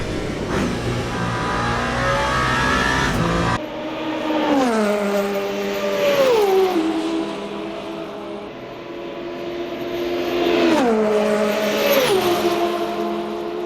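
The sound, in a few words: race car engine in seventh gear, Le Mans Ultimate video game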